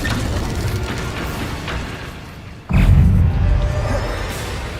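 In Hogwarts Legacy, an Incendio fire spell is cast and bursts in with a sudden loud low whoosh and boom, then a sustained roar after a quieter stretch of game sounds.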